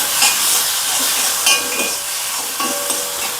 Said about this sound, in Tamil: தக்காளி பாருங்கள் நல்லா வதங்கிட்டுருக்கு.